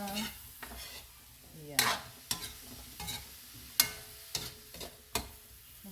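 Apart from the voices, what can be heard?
stirring squash in a pan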